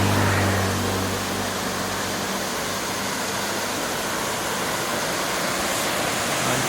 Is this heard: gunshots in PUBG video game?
no